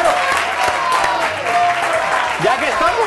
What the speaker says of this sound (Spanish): Un aplauso para Alejo, por favor.